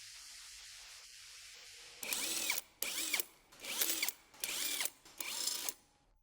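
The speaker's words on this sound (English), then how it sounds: "Lift the vehicle and use the impact to finish removing the lug nuts" Five loud, close bursts from an impact wrench spinning lug nuts off a Subaru Impreza wheel, each lasting about half a second with brief gaps between, following a few seconds of quiet shop background.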